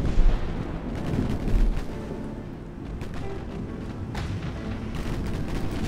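Warship guns fire in the naval combat game Ultimate Admiral, with a few heavy booms over a dense rumbling battle background, moderately loud and without talk.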